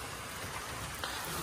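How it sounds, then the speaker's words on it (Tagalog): Steady rain falls during a typhoon-season downpour, a soft continuous hiss across the whole stretch with a brief faint knock near the end, no voices. "kasi nga po ay umuulan"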